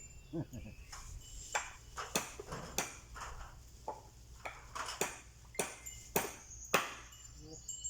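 Sharp metallic taps strike at a steady, uneven pace, a dozen or so blows like a hammer driving nails into wood while building a cattle pen, fairly quiet with a low hum underneath.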